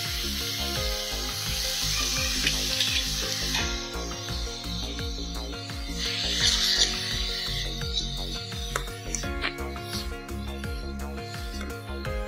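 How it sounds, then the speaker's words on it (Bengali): Grated coconut sizzles and fries in melted jaggery in a pan for a traditional Bengali mera pitha, a steady hiss running throughout over background music. "এবার আমি দিয়ে দিচ্ছি নারকেলটা।"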